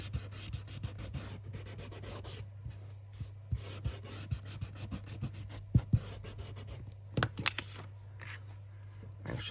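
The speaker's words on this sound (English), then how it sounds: "There's my sander." An electric sander works over a junk journal craft project, giving a continuous low motor hum beneath scratchy rubbing and scraping strokes, with a few louder knocks near the middle.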